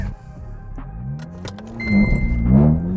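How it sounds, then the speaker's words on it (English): A VW Scirocco GT launches off the handbrake, its engine revving hard with rising pitch as it accelerates away, loud and close throughout with a short lull before a second surge of revs. "I'm getting better at the handbrake launches, I think."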